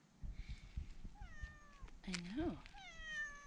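A cat in a barn conversion meows several times in short, rising and falling cries, close by, while a person talks softly to it in between.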